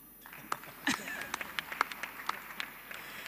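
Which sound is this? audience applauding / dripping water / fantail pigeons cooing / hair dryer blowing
audience applauding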